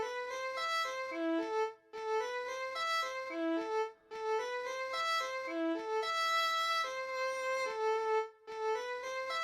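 Sampled Mid-East bowed fiddle from a software instrument library plays a flowing melodic line with bent notes over chords, with short breaks between phrases and a steady level throughout.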